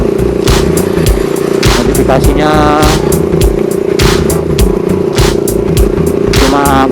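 A lightly modified motorcycle with rewired full-wave DC electrics is ridden, its engine droning steadily under wind buffeting and rattling knocks, while a rider speaks over it.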